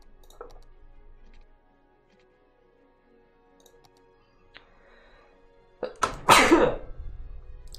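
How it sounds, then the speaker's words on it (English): One sharp, loud sneeze bursts out near the end after a long quiet stretch with faint ticking, close to the microphone. "That was a sneeze."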